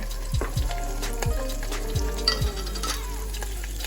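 Onions sizzle quietly in a hot pan with salt and pepper, a steady soft crackle broken by a few low thumps and scrapes of stirring, with no talk.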